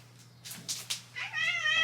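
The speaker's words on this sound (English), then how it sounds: "Look at how cute my cat is." A pet cat meows in short rising calls, a few soft mews building to a louder, drawn-out meow at the end, close by with a steady low hum beneath.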